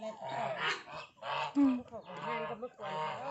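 Ducks and geese on a mixed Thai farm honk and quack repeatedly in overlapping bursts, fairly close and continuous, with a brief voice in among the calls.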